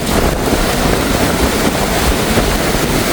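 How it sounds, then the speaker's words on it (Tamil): Strong storm wind roaring and buffeting the microphone continuously on the coast at Keerimalai, Jaffna, mixed with the wash of rough sea water, no voices. "நல்ல காற்று அடிச்சிட்டு இருக்கு"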